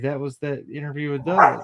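A dog barks under and between a person's steady talking, with a louder burst near the end.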